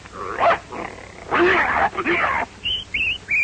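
A man imitates a dog fight with his voice, producing bursts of snarling, growling barks in short rough rounds, followed by a few high whistle-like yelps near the end.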